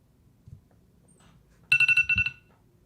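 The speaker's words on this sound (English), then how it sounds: "Alrighty, that is the timer." A quiz timer alarm goes off after a quiet stretch, a short rapid string of bright electronic beeps at moderate volume, with no one talking.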